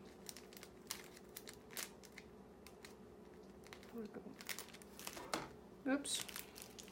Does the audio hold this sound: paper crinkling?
yes